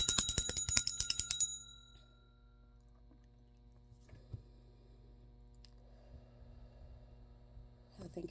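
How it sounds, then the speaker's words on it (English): A bell is rung, giving a bright rapid jingling that lasts under two seconds and then fades to near silence, with only faint low rustles and clicks afterward. "Let's ring this bell because these messages are coming in."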